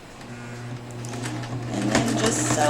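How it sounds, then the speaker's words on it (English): A sewing machine stitches a straight seam through thick denim on a purse, humming steadily with a rapid needle chatter that builds louder and faster, close up, with faint voice in the background. "And then just sew a straight line."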